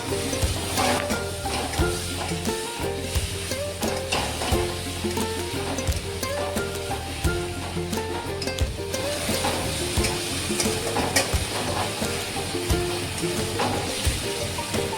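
Spice and flour paste for egg curry hitting a hot pan, giving a steady close sizzle with stirring scrapes throughout.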